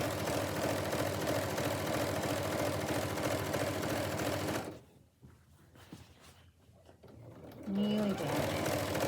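Sewing machine running a continuous fast stitch along an apron side seam, close and steady, then stopping into quieter handling sounds with a voice speaking.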